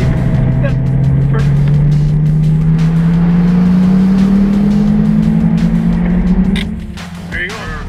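A Lamborghini Gallardo sports car accelerates hard on a racetrack, its loud, steady engine note rising in pitch over several seconds before easing off near the end.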